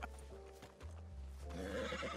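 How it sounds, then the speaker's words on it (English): A horse in the Red Dead (WildRP) western video game gives a loud, close whinny, with hoof clip-clops and background game sounds following. "Roland, don't shoot that horse"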